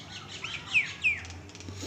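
Two myna birds sit nearby, giving a pair of sharp, close whistled chirps in quick succession over a soft outdoor background hiss, with no one talking.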